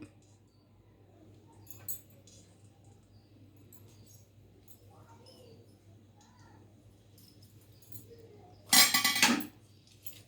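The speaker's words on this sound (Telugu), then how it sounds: "ఆయిల్ వేడెక్కింది చూడండి ఐదు ఎండుమిర్చిని వేస్తున్నా" Dried red chillies dropped into hot oil in a pan while tempering for tamarind pulihora, a short loud burst of sizzling and spattering near the end after a quiet stretch of faint kitchen clinks.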